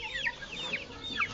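Chickens on a small backyard farm cluck and squawk in quick, close overlapping calls, with several short rising notes over a soft outdoor background.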